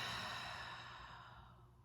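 A single slow, soft breath out during a guided breathing exercise, close and quiet, fading gradually with no talking.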